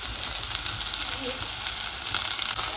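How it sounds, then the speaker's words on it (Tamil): Bitter gourd sautéing in a hot pan gives a steady, fairly loud sizzle and crackle throughout, with no talking over it. "கொஞ்சம் லைட்டாக வதங்கி வர"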